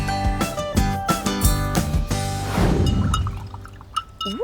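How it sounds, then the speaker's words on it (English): A paintbrush swished and tapped in a glass of water makes a run of tinkling, ringing clinks against the glass, followed by a splashy watery swirl, close and fairly loud with no talk. "I love the tinkling, swishing sound of my paintbrush in the water glass"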